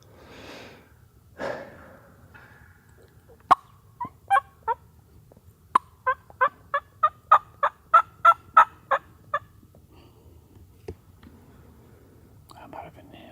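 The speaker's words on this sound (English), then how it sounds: "How many turkeys is there?" Wild turkeys gobble in the open during turkey season, a long run of sharp rhythmic gobbles at moderate distance, with hushed whispering and breathing from nearby hunters before and after.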